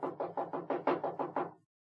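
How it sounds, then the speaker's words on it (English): Knocking on a house door after an unanswered doorbell, eight evenly spaced raps in a steady run, close and clear, then stopping. "Try knocking."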